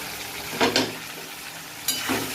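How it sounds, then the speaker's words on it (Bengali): Spice paste with turmeric, for parshe fish curry, sizzles quietly in a pan, with two brief bursts of stirring over a soft background hiss. "এরপর দেব হলুদ দিয়ে এখন এটাকে কষিয়ে নেব।"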